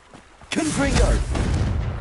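A Confringo blast spell exploding in the video game Hogwarts Legacy, one loud sudden boom with a rumbling tail, while a voice calls out over it.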